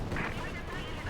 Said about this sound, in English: Katyusha firing away there